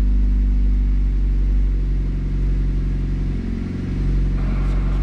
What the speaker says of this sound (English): Sounds like it might have an exhaust leak.